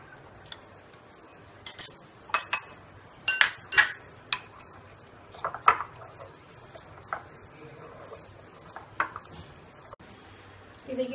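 Metal spoon clinking and scraping in a bowl while butter is stirred into a chocolate coconut mixture, giving scattered light ticks and clinks at an irregular pace, fairly quiet and close, with no talk.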